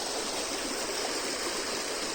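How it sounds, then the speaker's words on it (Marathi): A river swollen by heavy rain rushes past in a steady, dense roar, close and continuous with no breaks or voices. "1 महिन्याआधी हे नदी सोकली होती, आता मस्त वाहू राहिली."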